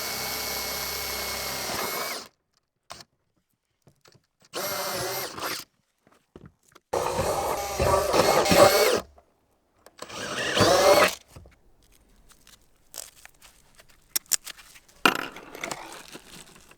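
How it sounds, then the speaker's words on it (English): A power drill drives screws into metal sheets on a pig trailer roof in short separate bursts of whirring and grinding, each a few seconds long, split by quiet gaps and faint clicks. "now we'll start drilling and putting the screws in"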